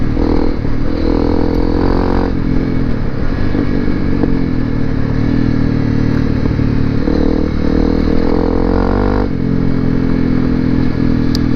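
A Honda CRF250L Rally motorcycle rides along a dirt fire road, its single-cylinder engine droning loud and steady with shifts in revs, plus rattling clatter from the chassis over rough ground.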